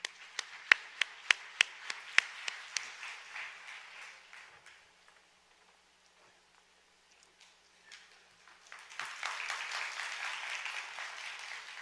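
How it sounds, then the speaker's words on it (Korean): A few sharp, evenly spaced claps ring out, fade to near silence, then a fuller round of audience applause rises and continues at a moderate level, welcoming a speaker at a forum lecture in Seoul. "류태호 교수님을 뜨거운 박수로 맞아주시기 바랍니다"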